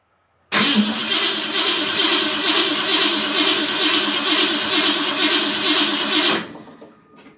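A 1990 Saxon roadster kit car's engine cranks and turns over near the microphone, a loud, steady, rhythmic mechanical churn lasting about six seconds before cutting off abruptly.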